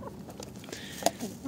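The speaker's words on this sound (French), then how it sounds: "Donc mes poules, c'est une variété de poules rousses, poule pondeuse" Red laying hens and a small bantam hen cluck softly in a coop, giving brief close clucks over a quiet rustling background.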